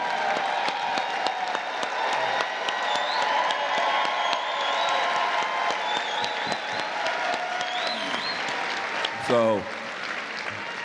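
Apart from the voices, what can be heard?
audience applause and cheering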